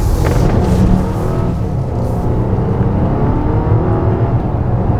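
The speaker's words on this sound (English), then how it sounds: "Now I can hear the engine" A 2021 Volvo XC90 T8 SUV's 400 hp engine roars loudly and steadily, building and holding throughout as it accelerates, with a continuous whirring drone and no talking.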